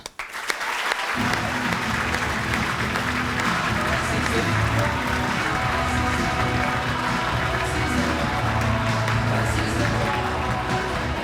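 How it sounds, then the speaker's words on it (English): A large audience at a Manchester United player of the year awards ceremony breaks into loud, sustained applause for the club's squad, a dense wash of clapping that holds steady throughout. "please give a huge round of applause to the squad of Manchester United"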